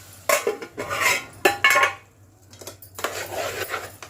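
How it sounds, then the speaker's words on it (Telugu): Chopped tomato pieces are stirred in a pan with a metal spoon, giving close, loud bursts of scraping and clanking that stop briefly and then resume. "చిన్నగా కట్ చేసి పెట్టుకున్న టమాటా ముక్కలను వేసేసుకోవాలి. వేసేసుకొని బాగా కలుపుకోవాలి."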